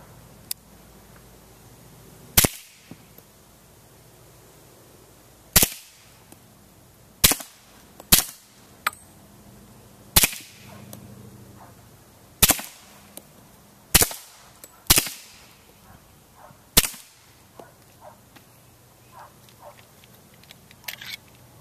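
A Sig Sauer Scorpion 1911 Carry Edition fitted with an Osprey 45 suppressor fires about ten suppressed shots, each a sharp, loud crack, spaced irregularly a second or two apart outdoors with no talk.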